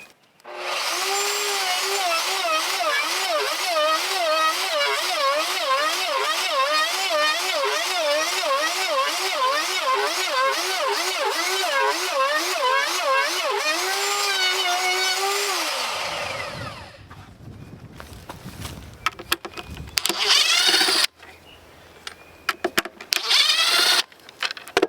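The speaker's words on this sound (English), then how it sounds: "let's go ahead and get to routing." Router cutting a mortise in southern yellow pine for a wooden gate, a loud whining motor with a rhythmically wavering pitch as the bit moves for about sixteen seconds, then winding down into scattered bumps and clatter.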